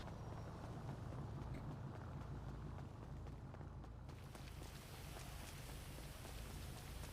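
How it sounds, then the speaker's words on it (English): Steady rainfall in a GTA roleplay game, a soft continuous patter and hiss, faint and even throughout with no voices. "So rainy."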